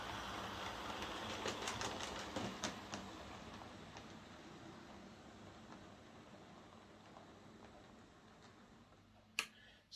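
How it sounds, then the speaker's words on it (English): A model railway locomotive, a J36, pulls coaches along a layout with a soft, steady rolling rumble and faint ticking of wheels over rail joints, fading gradually, then a sharp click near the end. "And this will pull the train back to where it came."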